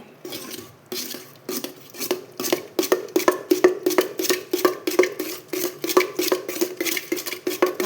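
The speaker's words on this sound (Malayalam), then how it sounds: "എല്ലാം കൂടി ഇളക്കട്ടെ." A spoon stirs jackfruit seed payasam with melted jaggery in a pot, making rhythmic scraping clatters against the metal, close and fairly loud, repeating in quick regular strokes.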